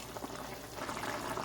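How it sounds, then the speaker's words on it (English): Curry chicken with carrots and potatoes boiling in a pot, a steady low bubbling and simmer that holds at an even, moderate level throughout, with no voices. "So you see guys, the curry chicken is boiling."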